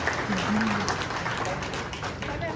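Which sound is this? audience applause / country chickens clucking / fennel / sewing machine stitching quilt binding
audience applause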